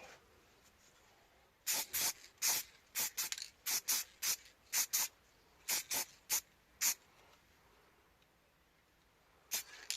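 A spray can squirts onto the face part of a Suzuki FZ50 scooter under restoration in quick short bursts, two or three at a time, with pauses between, and one last burst near the end.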